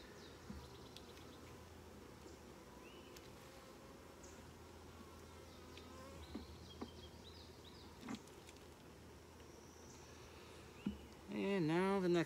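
Honey bees in an opened hive during an inspection, a faint, dense hum of buzzing with scattered clicks and handling noises, and a brief louder disturbance near the end.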